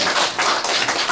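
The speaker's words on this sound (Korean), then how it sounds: "박수 부탁합니다." Loud, close applause from a small audience at a year-end gathering of traditional Korean music lovers, a dense continuous patter of clapping hands with no voices.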